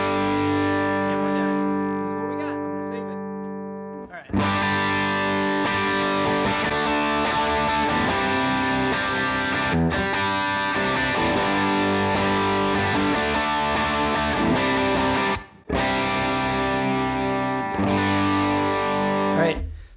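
Distorted electric guitar through a Line 6 Helix modeling a Vox AC30 amp on its Normal channel, playing chords and riffs with room reverb, loud and continuous with two brief pauses.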